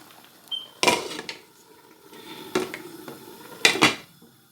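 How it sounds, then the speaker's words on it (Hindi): A lid goes onto a cooking pot of steamed chicken tikka in a home kitchen, making three sharp metallic clanks and rattles spread over a few seconds, close and fairly loud against a quiet background. "तो अब मैं इस पर ढक्कन दे देती हूँ।"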